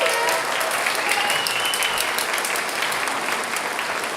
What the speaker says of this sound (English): So they deserve a big round of applause for hauling all of that.